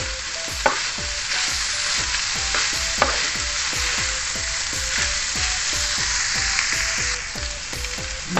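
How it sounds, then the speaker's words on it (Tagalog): Pork lechon sisig sizzles loudly in a pan while a utensil scrapes and stirs in a steady, repeated rhythm, close up with no talking. "Haluin ko lang guys."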